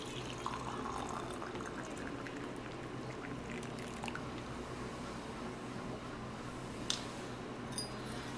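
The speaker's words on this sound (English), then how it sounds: "fill that completely with the boiling water" Boiling water is poured from a kettle to fill a teapot, a steady soft gurgling stream lasting several seconds, close by with faint clinks near the end and no talking.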